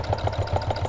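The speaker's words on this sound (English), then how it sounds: "continue sewing along the edge" A sewing machine stitches along the edge of a small fabric pin cushion, giving a short burst of steady, rhythmic mechanical thumps at close range with no talking.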